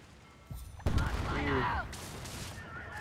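Gunfire in the naval pirate game Skull & Bones: a sudden loud burst of shots that rolls into a sustained, rumbling volley for about a second before tailing off into steady background noise.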